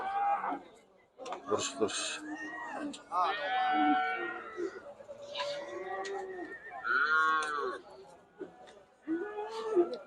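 Cows at a livestock market in Kyzylorda low repeatedly, several drawn-out moos close by, with people talking in between.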